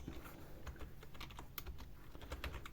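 Quiet computer keyboard typing, a rapid, slightly uneven run of soft close key clicks with no talk over it.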